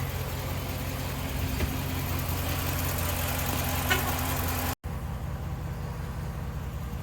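A vehicle engine idles in neutral with the parking brake set, a steady, even mid-pitched rumble heard close by for several seconds, briefly cut by a sharp dropout before the same idle resumes.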